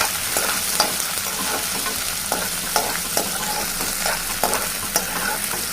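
Onion, green chilli, bay leaf, cinnamon and cloves frying in hot oil in a kadai, with constant sizzling and regular stirring taps, close up.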